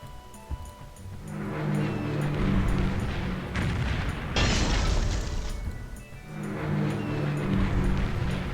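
Bombing explosions in Civilization III during a World War II England campaign: deep rumbling blasts and bursts fill the clip continuously, with a brighter crackling stretch in the middle, loud and without talk.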